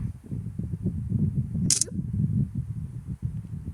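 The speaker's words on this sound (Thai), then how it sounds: "ถ่ายรูปกันมาถ่ายรูปกันเร็วๆ" A single camera shutter snaps once at a Songkran water festival gathering, a brief crisp click standing out over a low rumbling background.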